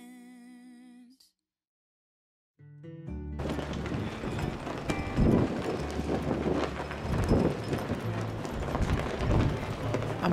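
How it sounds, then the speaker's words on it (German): Strong gusting wind at Four Corners Monument roars steadily into the microphone, a dense, buffeting rush that continues unbroken after a quiet opening and a few faint tones. "Am Four Corners Monument merken wir, dass ein ziemlich heftiger Wind weht."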